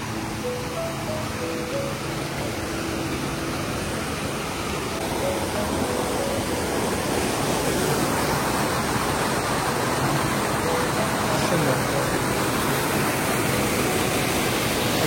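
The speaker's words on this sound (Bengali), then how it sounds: "এদিকে একটা ঝর্ণা, হ্যাঁ, তারপর এইদিকে আর একটা দেখা যাচ্ছে" Steady broadband roar of a waterfall in a forested Swiss valley, constant and fairly loud throughout with no voices, like rushing water heard from nearby.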